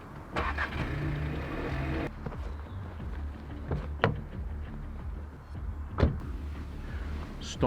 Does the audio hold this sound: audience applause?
no